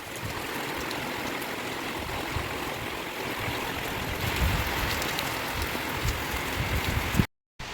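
Steady rain falls on a concrete terrace roof, a dense, even hiss of drops and runoff that continues unbroken before cutting out briefly at the end.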